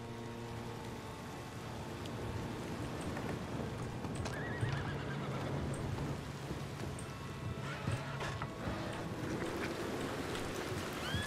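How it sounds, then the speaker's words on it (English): A horse in the Red Dead Redemption 2 RedM game whinnies and neighs with steady clip-clopping hooves throughout, set against in-game rain and distant thunder, with no talking. "Horse! Goodness!"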